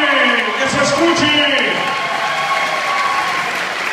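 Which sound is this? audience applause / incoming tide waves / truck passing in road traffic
audience applause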